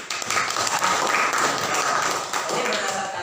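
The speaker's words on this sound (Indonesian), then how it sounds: "tepuk tangan." A classroom audience gives a short burst of applause, dense and fairly close, with some voices mixed in.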